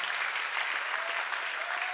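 An audience in a church claps steadily in a dense, even burst of applause that fills the whole moment without pause.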